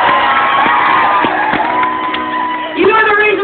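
Concert crowd at a show in Kansas City cheering loudly, with shouts, whoops and sustained high yells blending into a dense roar that swells again near the end.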